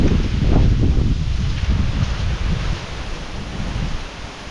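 Heavy rain pours down in a rural area, a dense wash of noise mixed with gusting wind buffeting the microphone, loud and close throughout.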